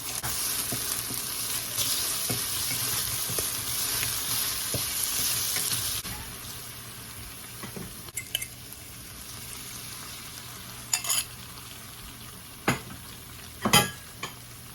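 Beef steak and garlic frying in a pan, a steady broadband sizzle for the first six seconds that then thins out, leaving quieter crackling with a few sharp pops and clinks near the end.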